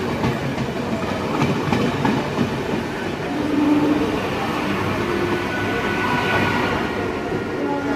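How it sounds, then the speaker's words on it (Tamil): A Tiruvannamalai circular express train rolls past on the railway, steady close rumble of wagons with clickety-clack wheel rhythm over rails throughout, loud and continuous without voices. "திருவண்ணாமலை வண்டி கிராசிங் அனதர் திருவண்ணாமலை வண்டி."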